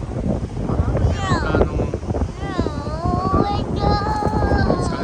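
Wind rumbles against the microphone on an open beach while people talk and a voice rises over it.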